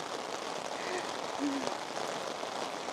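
Heavy rain pours steadily on a rainy day in Shirakawa-go village, a dense, even hiss of falling water close by that holds throughout, with faint voices briefly mixed in.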